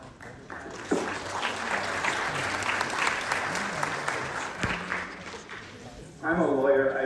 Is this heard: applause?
yes